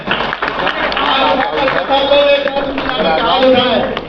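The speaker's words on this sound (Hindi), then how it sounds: "जोरदार ताली बजाएं" Crowd clapping at a Congress party joining ceremony at Sadaqat Ashram in Patna, scattered claps mixed into dense chatter and a loud voice over a busy hall.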